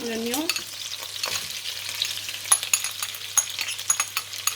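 Onion frying and sizzling in a pan for a prawn curry with coconut milk, a steady crackle broken by clattering stirs and scrapes, close and fairly loud, with no talk.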